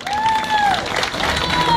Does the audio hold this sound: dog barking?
no